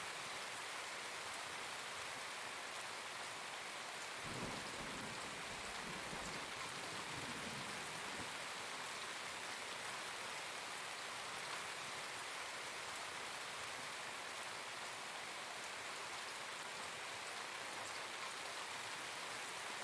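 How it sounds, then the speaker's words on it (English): Rain falls in the ZVS video game, a steady hiss of drops that runs unbroken throughout, with a soft low thump early on. "It's raining."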